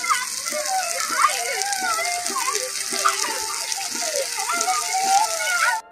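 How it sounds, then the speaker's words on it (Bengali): Water pours into a cooking pot for Bengali-style fried rice, a steady rushing hiss running throughout, while children's voices and chatter carry on over it in a home kitchen. "এখন দেখো জল দিয়ে দিয়েছি"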